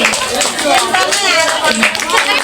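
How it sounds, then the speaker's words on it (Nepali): A church crowd at a Christmas celebration applauds steadily while gifts are handed out, with the dense clapping continuing throughout and voices mixed in. "जोरदार ताली बजाउनु सबैजनाले ताली ताली ताली ताली ताली"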